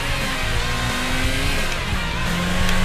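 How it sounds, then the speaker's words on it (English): Sega GT 2002 race car braking hard in an E-Type, a steady loud engine drone with whining tire squeal tones sliding through it, no talking. "Braking hard."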